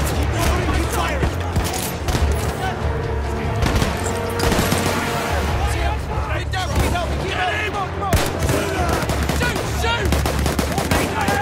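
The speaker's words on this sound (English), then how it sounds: "I've been shooting this entire time." Heavy gunfire in Battlefield 1, with rapid machine-gun bursts and single shots rattling nearly nonstop among explosions and battlefield noise, loud and close.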